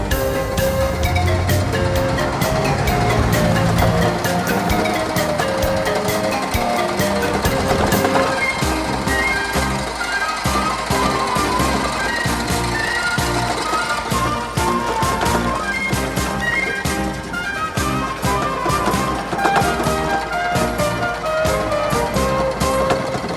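A 1960s electric chariot runs fast downhill over a bumpy surface, filling the scene with loud, continuous rattling and clattering jolts that rarely let up.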